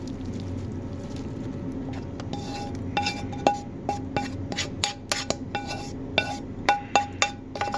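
Ground beef and oil tipped from a pan into a dish, with repeated metallic clinks and scrapes of utensil against cookware, sharp taps clustering toward the end over a low steady kitchen hum.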